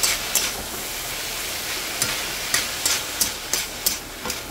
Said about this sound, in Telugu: ఇంకా లైట్గా ఫ్రై చేసుకుని ఒక్కసారి ఇది వేడెక్కి ఆ పోపు వాసన అంతా ఈ కర్రీకి పెట్టే వరకు ఉంచుకొని తీసుకోవడమేనండి